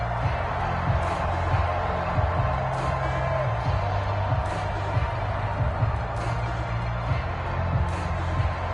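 A home stadium crowd in a PS4 football video game roars in a sustained wash of cheering with scattered whoops and sharp spikes, and commentary-like voices low under it.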